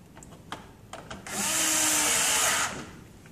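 Power drill drives screws into the gear assembly of a white elevator, sounding one loud, sustained whir for about a second and a half after a few light handling clicks.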